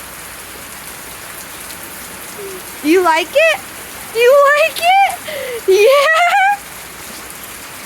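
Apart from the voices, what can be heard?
rain falling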